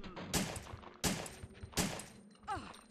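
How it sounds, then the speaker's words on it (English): Three sharp gunshots ring out at even intervals in Resident Evil 3, each a loud crack with a short tail, followed by a brief rising tonal squeal. "Oh, I heard a gunshot."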